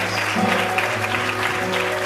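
A church congregation applauds steadily in a large room, a dense wash of clapping that holds evenly for a couple of seconds.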